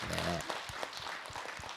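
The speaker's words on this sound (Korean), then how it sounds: "박수 좀 해주세요." An audience applauds at a Buddhist monk's dharma lecture, a steady wash of many hands clapping that fills the clip, with a voice speaking briefly at the start.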